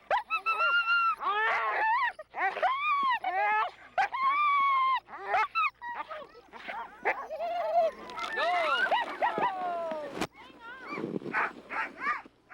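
Sled dogs at a youth race start in Tanana yelp, bark and whine eagerly in a near, continuous overlapping chorus of excited yips and howls.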